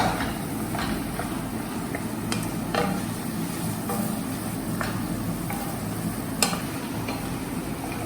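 Tomatoes sauteing in a pan as part of a Burmese khow suey preparation, giving a steady soft sizzle with scattered taps and scrapes of stirring, close and without talk.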